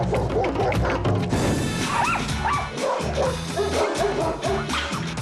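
An aggressive dog in a house barks, yips and whimpers in quick, rough bursts, close and loud, with clattering and crashing noises mixed in.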